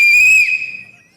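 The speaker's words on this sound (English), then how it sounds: "You guys actually got a fucking whistle?" A loud, shrill whistle is blown hard in one sustained blast that then trails off and fades, alone without talk.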